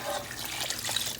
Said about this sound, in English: I'm going to add this water to the chicken.